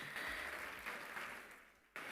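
Audience applause at a live school event, steady clapping throughout with a brief dip and swell near the end.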